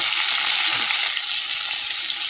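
Bitter gourd frying in hot oil makes a dense, even, close hiss of sizzling that stays steady from start to finish, with faint spatula movement and no talking.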